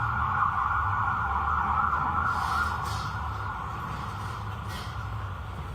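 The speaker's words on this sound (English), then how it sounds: "wait until the sirens pass" Emergency sirens wailing outside a courthouse during a trial, a steady, loud, sustained tone droning from start to finish with traffic rumble underneath and no talking.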